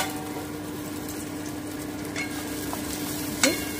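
Bitter gourd and potatoes fry in a pan with a hilsa fish head dish underway, a steady close sizzle with occasional scrapes of stirring and one sharper clatter near the end.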